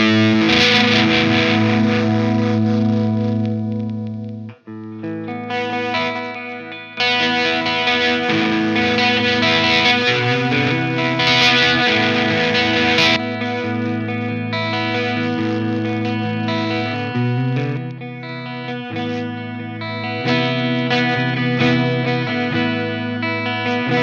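Electric guitar played through the ML Sound Amped Flagship amp-simulator plugin on its Brownie Clean channel, ringing chords and picked notes with a rich, slightly driven tone and lush sustain, loud and alone with no talking.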